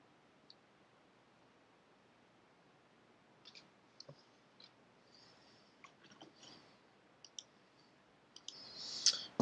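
Sparse, quiet clicks of computer keyboard typing come in scattered bursts amid a faint background hiss, with a short busier flurry near the end.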